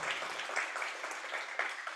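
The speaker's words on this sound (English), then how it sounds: "Let's give them a round of applause." Faint, brief applause from an audience at a panel talk on extended reality in health care, a soft, even patter of clapping.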